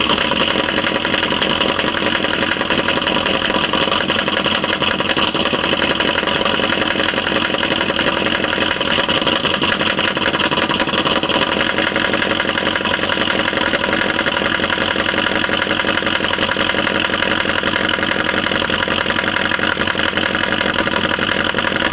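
A 2012 Chevy Caprice PPV with a 6.0 LS V8 runs steadily just before breaking down, a loud, continuous idling drone that holds even for about twenty seconds with no talk.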